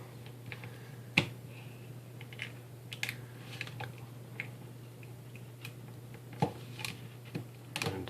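Small sharp snaps and crackles as a Victorinox Swiss Army knife cuts into a plastic blister pack, scattered faint clicks with a few louder pops against quiet hum.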